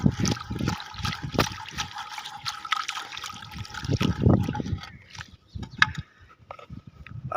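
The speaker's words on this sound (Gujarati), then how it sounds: "પાણી આખું ભરી દીધું છે આપણે ચકલી ને પંક્ષીઓ માટે." Water trickles and splashes into a bowl set out for sparrows and other birds, a close, uneven dribble with scattered small splatters and clinks that thin out toward the end.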